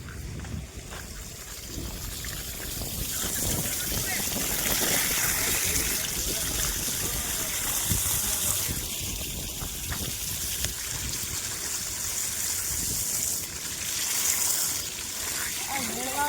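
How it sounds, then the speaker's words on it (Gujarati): Household water supply arrives and flows in a steady, rushing stream, a constant moderate hiss and splash running for the whole stretch, with faint voices in the background. "પાણી આવી ગયું"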